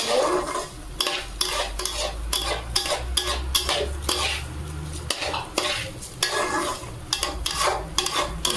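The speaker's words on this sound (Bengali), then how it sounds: "ভালো করে ভেজে নেবো এটাও আমি একটু তিন চার মিনিট ভেজে নেব" Rice for khichuri being stirred and fried in a pan over medium flame, with a steady sizzle broken by frequent scraping, clanking strokes of a utensil against the pot, close and continuous with no talking.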